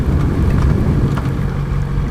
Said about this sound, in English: it's starting to rain harder